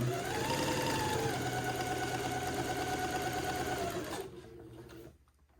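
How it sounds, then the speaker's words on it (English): A sewing machine stitching over the seam of a corduroy jumper, running steadily and loudly up close with a whirring hum, then slowing and stopping near the end. "I'm approaching the front and back seam of the corduroy part of the jumper. So I'll sew over that seam."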